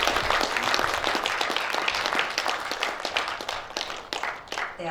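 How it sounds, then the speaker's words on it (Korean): An audience at a journalists' day ceremony gives sustained, lively applause that gradually thins out toward the end, with no speech over it. "다시 한번 큰 박수 부탁드릴까요?"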